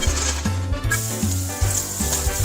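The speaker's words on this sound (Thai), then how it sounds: "เจียวกระเทียมจนเหลืองแล้วก็ใส่เนื้อเทียมลงไปเลยค่ะ" Garlic and plant-based mock meat stir-fry in a hot pan, a loud continuous sizzle overlaid with rhythmic repeated scraping strokes of a spatula, up close with no talking.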